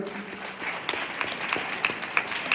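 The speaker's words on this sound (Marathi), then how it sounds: "जोरदार टाळ्या वाजवा आपण जण" Applause at a Shivaji Jayanti talk for students rises from an audience, a fairly soft spread of clapping with a few sharper claps standing out near the end.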